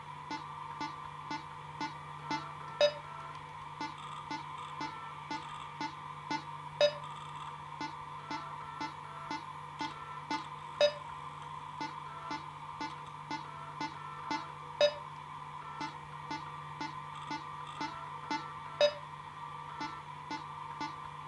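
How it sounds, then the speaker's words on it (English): Calibration beeps from a rhythm game played with only the space bar sound as short, evenly spaced tones at a steady tempo over a faint constant hum, with a slightly stronger accent roughly every four seconds. "Try to match it so the green light blink at the same time as the beep sound"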